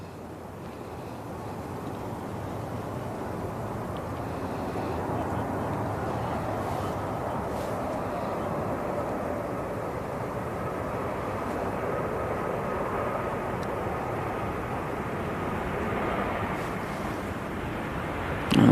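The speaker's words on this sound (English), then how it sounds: "And that was a bouncy landing. So that's Ryanair from Dublin, 737." Ryanair Boeing 737 from Dublin landing at Manchester Airport, a broad sustained roar of jet engines and rushing air that holds steady and loud throughout, with wind buffeting the microphone.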